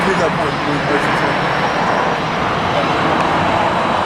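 A jet airliner passes at LAX, a steady loud broadband roar filling the whole moment, with people talking underneath.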